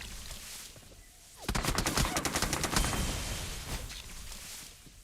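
Gunfire from a battle royale video game: after a quiet start, a loud, rapid burst of automatic shots rattles out, then tails off into scattered sporadic fire.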